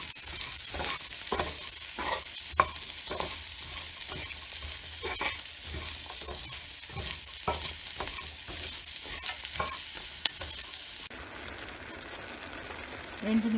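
Onions with a little salt sauté in a pan, a continuous sizzle broken by repeated scraping strokes of a spoon stirring them, close and clear, before the sizzle drops to a quieter hiss near the end.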